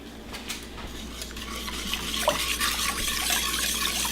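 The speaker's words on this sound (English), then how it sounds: "I'm going to whisk that together" A whisk stirs a sauce of dark brown sugar in a pot, giving soft liquid swishes and faint scraping clinks over a low background hum.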